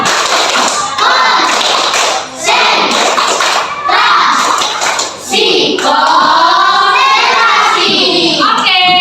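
A class of children does a rhythmic concentration clapping game, with steady tapping and clapping patterns and a loud, close group chant over them.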